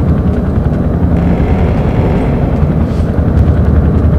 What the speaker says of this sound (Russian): Или там уже вертолет долбит у нас?